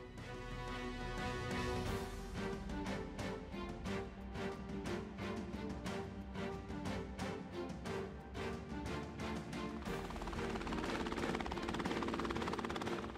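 Steady rhythmic rotor chop of a helicopter in forward flight, continuous and fairly loud throughout with a dense mechanical drone underneath.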